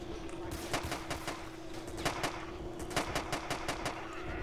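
Rapid bursts of gunfire in the video game Grand Theft Auto: San Andreas ring out in short clustered volleys over a steady background hum, with a moderate, slightly distant feel.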